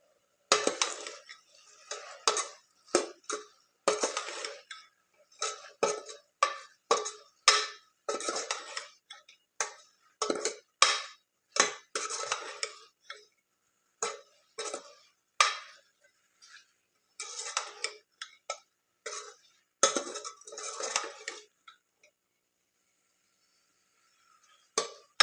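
A spoon stirring crushed garlic and green chilies in a metal pan while making parvar shaak, with repeated close scraping and clinking strokes in uneven bursts separated by short quiet gaps.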